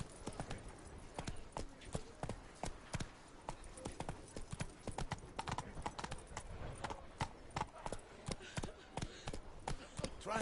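Roach the horse's hooves clop steadily in The Witcher 3, a close, rhythmic run of sharp strikes that continues without a break through the whole stretch.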